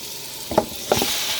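Chicken sizzles in a pan for biryani, with two short bursts of stirring and scraping over a soft, steady frying hiss, close and moderately loud.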